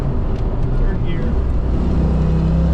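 A Ford Mustang Fox body with a 5.0 engine accelerates through the gears, giving a loud, close, continuous roar that stays strong for the whole short stretch.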